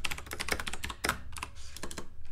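Fast computer keyboard typing while writing code, a dense run of crisp key clicks in quick bursts with a short pause, close and clear with no talking.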